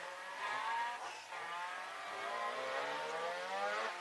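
Race cars on a track, a Subaru followed by a Nissan 370Z, engines revving and rising in pitch as they pass at speed, steady and fairly distant.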